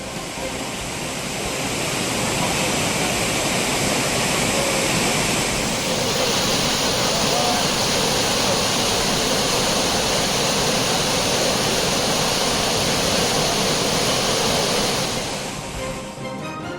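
Courtallam waterfalls in Tenkasi pour in a steady, loud broadband roar that fills the whole stretch, shifting slightly in tone partway through, with no voices over it.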